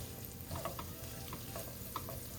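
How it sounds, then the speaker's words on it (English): A ground beef mixture with onion soup being stirred in a hot frying pan: steady soft sizzling with a few light scraping clicks of the spoon, close and fairly quiet. "we're gonna give this a good stir. Stir it all up here"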